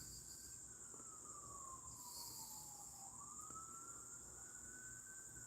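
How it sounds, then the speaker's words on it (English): Emergency siren wailing far off in a rural outdoor setting, its pitch sliding down and back up once over a steady bed of chirping insects, faint and continuous. "I hear a siren."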